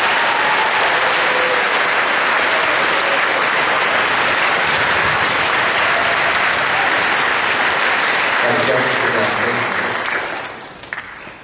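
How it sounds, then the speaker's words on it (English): An audience at a school music awards event gives a sustained round of applause for motion students, a thick, steady roar of clapping lasting about ten seconds before tapering off. "one more round of applause, please, for our motion students."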